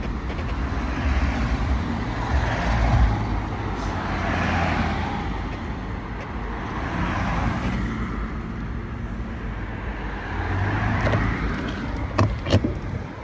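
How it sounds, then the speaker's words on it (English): Road traffic at a busy intersection: cars and other vehicles passing close by in overlapping swells of engine and tyre noise, with a brief sharper mechanical rattle near the end. "traffic coming from my left"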